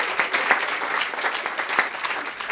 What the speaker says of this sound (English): Let's give Mr. Lace and Dr. Ross another thunderous round of applause for their information.